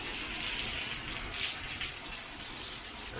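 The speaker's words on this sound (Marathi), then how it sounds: "सगळीकडे जोरदार पाऊस पडतोय" Heavy monsoon downpour in the Konkan region, with rainwater flowing and pooling; a steady, dense wash of rain and running water fills the scene continuously, loud and close, with no speech.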